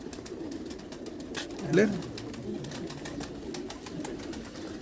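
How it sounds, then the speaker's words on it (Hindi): A racing pigeon known as Jugnu, flown by Khurram, gives a brief, soft coo, close and at moderate volume, among low outdoor background noise and occasional distant voices. "ये जी खुरम साहब का उड़ा हुआ कबूतर है"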